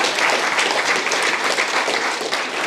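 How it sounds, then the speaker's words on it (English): Dense, even applause from an audience at a startup pitch night, a full crowd clapping continuously with no voices over it. "Round of applause."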